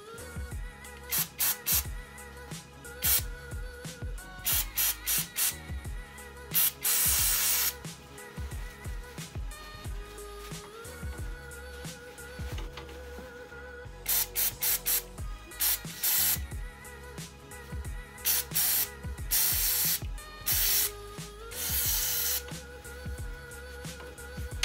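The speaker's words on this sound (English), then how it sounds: "So I'm going to take a little brake clean" Brake cleaner sprayed onto the brake line fittings of a 1981 Jeep CJ7 during a power brake upgrade, heard as several loud, close hissing bursts of varying length with short pauses between them and no talk.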